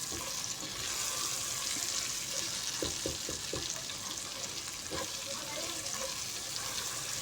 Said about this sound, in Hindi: तो अब हमने इनको अच्छे तरीके से फ्राई कर लेना है टिंडों को।